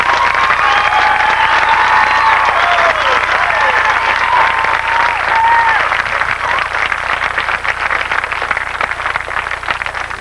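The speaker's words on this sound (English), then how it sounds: "Let's give them a great round of applause." Sustained applause from a large audience at a 1989 high school graduation ceremony for the graduating class, steady and full throughout with a few whistles and cheers mixed in.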